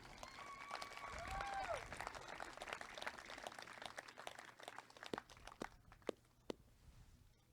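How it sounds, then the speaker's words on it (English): Scattered applause at an outdoor graduation ceremony, faint and thin, with sparse individual claps standing out as it dies away; brief voices and whistling tones rise in the first seconds. "Another round of applause for Marissa."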